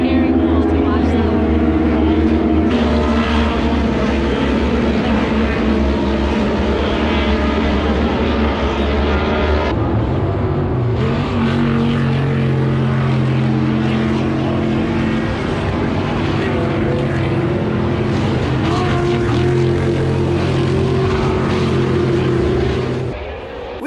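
Pro stock drag racing cars roar side by side past bleachers, a loud, sustained engine howl with shifting pitch that cuts out near the end, while people talk under it.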